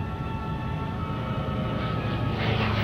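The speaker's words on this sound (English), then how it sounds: "this is Dan Dameo in the FG-1, Goodyear built Corsair" The engine of a Goodyear-built FG-1 Corsair, a World War II fighter, drones steadily and loudly at an airshow. A low rumble with a sustained tonal hum grows slightly louder toward the end.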